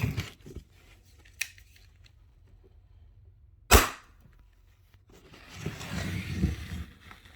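A Schofield airsoft revolver fires through a chronograph, giving one sharp, loud crack after an earlier fainter click, followed by a rustle of handling noise.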